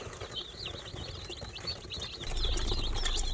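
A delivery box of one hundred baby meat chickens gives off a steady, dense chorus of high peeping chirps, close and continuous, with no talking.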